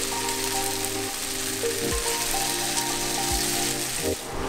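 Tofu sizzles steadily in hot oil in a pan, a loud, dense, continuous crackle with a low background hum and a few soft knocks.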